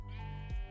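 A Minecraft sheep gives a single close, clear bleat with a wavering pitch that drops near the end, heard alone.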